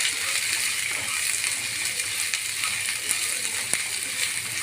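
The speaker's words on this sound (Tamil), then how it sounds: "இப்போ நல்லா வதக்கிக்கலாம்." Chopped onions and green chillies sautéing in a hot pan give a steady, even hiss of frying with a few faint scrapes and clicks. Nobody speaks over it.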